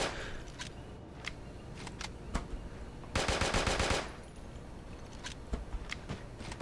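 Gunfire in the video game Creative Destruction during a spectated scrim match: scattered single shots, then a dense rapid burst of automatic fire lasting about a second, followed by more sporadic shots, with no voices.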